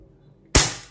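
A Sig Sauer P226 Stainless (F226) airsoft pistol fires a single loud, sharp crack close up after a brief near-silence, and the shot quickly decays.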